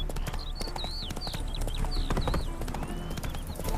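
Steady, rapid clip-clop of horse hooves trotting close by in The Witcher 3: Hearts of Stone, with birds chirping over a busy outdoor background.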